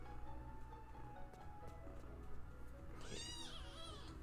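A house cat meowing in protest while being moved, a short drawn-out wail over a constant background of video game music.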